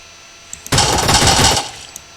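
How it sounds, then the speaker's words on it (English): A gun being reloaded in a shooting video game: a single dense, loud mechanical rattle lasting under a second, with small clicks just before and after. "Let's reload."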